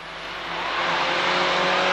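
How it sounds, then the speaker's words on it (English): Formula 1000 race cars at a 1991 Braintree Auto Club meeting roar by on a tricky track, a dense broadband engine howl that swells over the first second and then holds loud and steady. "And the Formula 1000 cars finding the conditions a little tricky."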